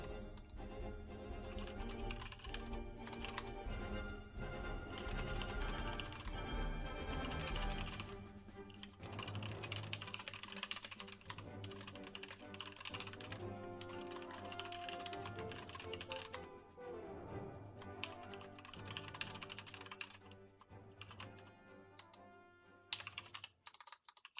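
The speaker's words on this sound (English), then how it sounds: "Hold on, I'm just typing something in the game." Rapid typing on a computer keyboard during an online game match runs continuously for about twenty-four seconds, a dense, steady clatter of key taps heard close and alone.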